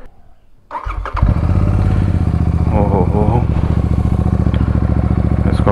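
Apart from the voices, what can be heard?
Royal Enfield Super Meteor 650 motorcycle engine starting and idling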